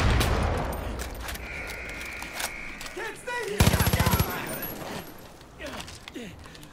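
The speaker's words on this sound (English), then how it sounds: "They have airstrikes." Rapid bursts of gunfire and explosive blasts from Far Cry New Dawn airstrikes crackle through a chaotic firefight, with a dense volley standing out midway amid ongoing game noise.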